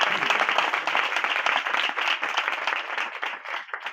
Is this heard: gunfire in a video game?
no